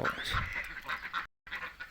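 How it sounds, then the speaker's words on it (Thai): Ducks on a small duck farm quack and honk in quick, overlapping calls, close by, with a brief silent gap near the end. "ก็ตั้งเป็น ฟาร์มเล็กๆครับเป็ดอีเหลียงแม่กิมหวยครับ"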